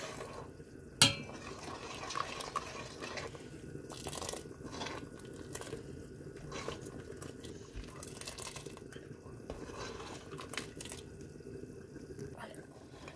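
A spoon stirs and scrapes a dish in a pot to stop the bottom from burning. Repeated short scraping strokes sound close up over a quiet kitchen background.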